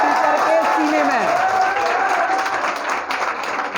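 An audience of students claps loudly and steadily at an energetic teacher's talk, dense applause filling the whole stretch with crowd voices mixed in.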